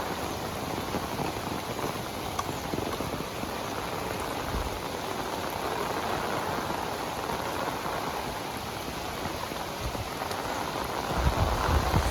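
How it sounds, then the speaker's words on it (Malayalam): Heavy rain in Palakkaddrums down steadily, a close, even hiss of drops striking water and surfaces, loud and unbroken across the whole stretch, with no one talking. "അടിപൊളി മഴ"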